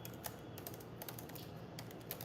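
Quiet, steady typing on a computer keyboard, soft clicks in an uneven rhythm over a low room hum, no voices.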